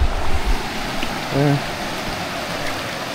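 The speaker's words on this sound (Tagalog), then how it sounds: "medyo malakas ang agos ng tubig dito" Steady broadband rush of a strong, fast-moving river current at a campsite in Real, Quezon, continuous and fairly loud, with a brief tonal sound near the middle.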